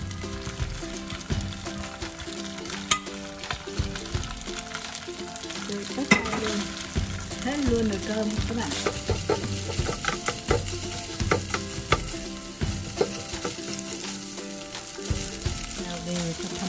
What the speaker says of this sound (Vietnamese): chảo bây giờ đã nóng, mình bắt đầu cho cơm vào chiên